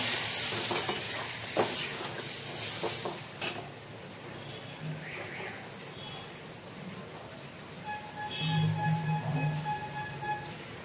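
Vegetables frying in a hot pan burst into a loud hiss as water is poured in, the sizzle swelling and bubbling near the end amid earlier stirring clatter; a voice speaks briefly.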